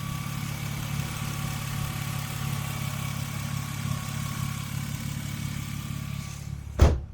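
A car engine idles smoothly and steadily throughout, a low even rumble, with a brief sharp knock near the end.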